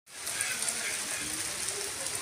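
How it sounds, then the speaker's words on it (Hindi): Steady, dense hiss of heavy rain pouring down continuously in a Pakistani village, with no pauses and no clear voices. "बारिश दोबारा फिर से तेज हो गई है"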